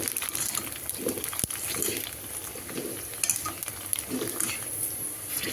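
Fuchka puris frying and puffing up in hot oil, a continuous close sizzle with intermittent soft scraping and utensil clinks, and no talking.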